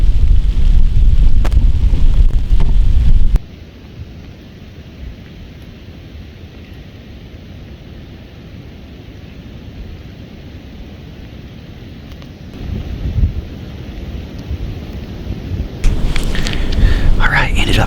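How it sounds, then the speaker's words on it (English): Wind and rain blow hard outdoors on Michigan public land during a deer hunt, a steady close broadband rush with heavier buffeting gusts at the start and end. "it was raining and blowing really bad"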